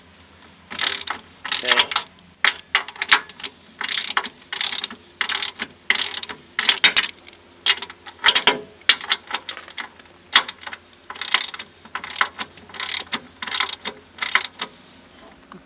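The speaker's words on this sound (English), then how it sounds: "Got my 19mm socket right here. This will greatly expedite things." A 19mm (3/4 inch) socket ratchet clicks in repeated bursts of quick pawl strokes while working on a Sovema EM 272 finish mower, close and clear with steady rhythmic pauses between pulls.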